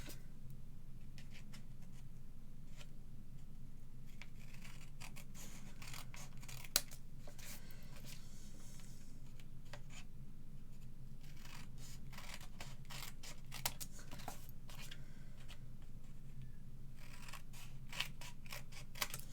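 Scissors snip off small pieces over and over in a quiet room, a long run of soft, close cutting sounds with an irregular rhythm over a low background hum.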